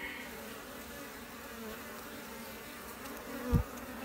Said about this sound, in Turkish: Ama maalesef hala arılar da dışarıda.